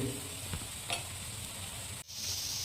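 Sliced onions sizzle in a pan with a pinch of turmeric powder for a Kerala-style masala dosa filling, under a constant loud hiss broken by a couple of quick spatula scrapes and a brief dip near the end.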